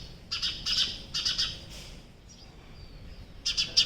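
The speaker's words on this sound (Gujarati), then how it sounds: "અહીંયા જો ચકલી, અને આમાં છે ને બચ્ચા છે એનો અવાજ આવે છે।" Sparrow chicks in a nest give bursts of high, rapid chirps in short clusters, close by, with quiet pauses between calls over low outdoor background noise on a cloudy day.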